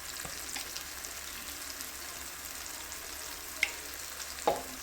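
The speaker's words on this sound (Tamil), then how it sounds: "மல்லித்தூள் போட்டு சும்மா லைட்டாக இப்படி ஒரு வதக்கு" Chili powder and coriander powder masala sautéing in a pan for a village-style fish curry, a steady faint sizzle with a couple of brief sharp clicks of the spoon, no voices.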